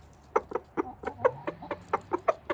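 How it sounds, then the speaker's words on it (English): A chicken gives a run of about a dozen quick, close clucks in a steady, contented rhythm. "That's the chicken sound that says, I'm very pleased with myself."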